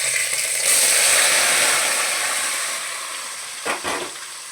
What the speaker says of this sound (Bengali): তেল গরম হয়ে গেছে, আস্তে আস্তে মাছগুলোকে ছাড়বো।